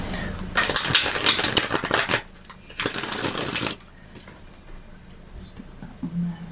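Tarot cards from a Triple Goddess deck being shuffled by hand, two bursts of crisp riffling and flicking close up, each lasting over a second, followed by quieter handling and a soft voice near the end.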